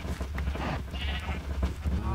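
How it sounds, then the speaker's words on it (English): A sheep in a farming video game bleats once in a short, clear call partway through, heard under someone talking over a steady low background hum. "Oh, a sheep. It's loose."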